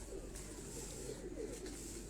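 An old pigeon cooing, soft low coos repeated a few times at close range over a faint steady background hum.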